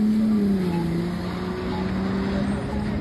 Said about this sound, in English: Traffic is backed up.